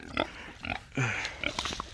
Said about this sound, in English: Oh, kunekune pigs.